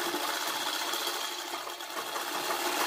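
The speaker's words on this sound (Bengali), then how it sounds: "চাপ সেলাইয়ের মতো এরকমভাবে আমি সেলাই করে নিচ্ছি" A sewing machine runs steadily, stitching fabric for a puff-sleeve garment with a fast, even whirring hum that carries on without pause, moderately close and alone.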